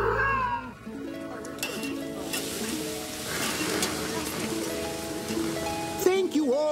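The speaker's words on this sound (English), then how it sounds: "Here, kitty, kitty, Natalia" Cartoon cat meowing in an animated scene, several tonal, wavering cries standing out over a busy mix of music and effects, with a closing meow near the end.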